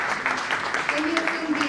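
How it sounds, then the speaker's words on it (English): Applause from the audience at an award ceremony honouring innovation and research leaders, a steady patter of clapping lasting under two seconds with a voice speaking over it. "Please join me in applauding"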